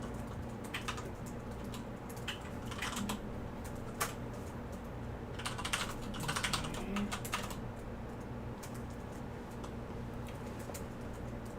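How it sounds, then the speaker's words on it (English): Typing on a computer keyboard during a DevSecOps session, soft, fairly quiet key clicks in irregular bursts over a low steady hum, heaviest in the middle, with no talking. "I'm gonna type SSH add"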